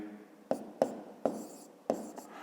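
Numbers are written by hand on paper during a fifth-grade maths exercise, the pen landing in four sharp taps with short scratchy strokes between them, close and clear.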